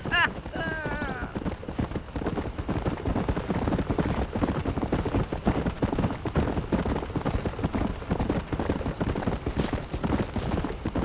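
A horse gallops in the Western video game Red Dead Redemption, a fast, steady clip-clop of hooves that continues without pause, opening with a brief whinny and running under spoken dialogue.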